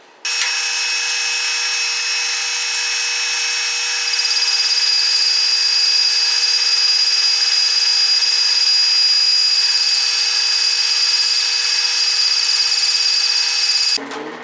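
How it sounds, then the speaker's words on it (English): A power drill whines steadily at high speed for several seconds, loud and close, its pitch shifting slightly as it bites, then stops. "got the hole drilled"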